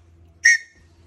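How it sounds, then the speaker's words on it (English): A single short, shrill whistle blast, a backpacking safety whistle blown once, loud and clear against a quiet background hum. "my whistle"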